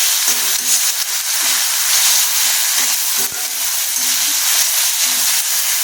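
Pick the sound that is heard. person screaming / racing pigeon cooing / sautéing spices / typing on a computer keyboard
sautéing spices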